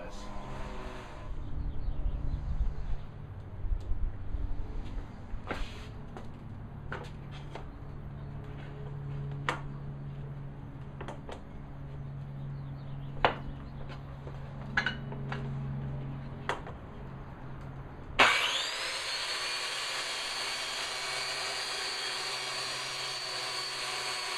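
A Grizzly track saw cutting wood in a home shop: scattered light clicks and handling knocks, then the motor starts abruptly and runs loud and steady to the end.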